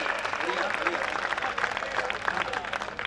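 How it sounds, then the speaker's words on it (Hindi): An audience at a Hindi comedy poetry gathering in Rajnandgaon claps in a dense, continuous burst of applause, moderately loud and sustained throughout, with voices mixed in. "थोड़ी तालियां आप और जोरदार बजा दीजिए।"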